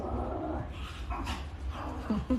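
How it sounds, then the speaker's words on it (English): A pet dog barks and whimpers indoors, a few short, moderately close yips scattered through a brief stretch with no talking. "Excuse my dog."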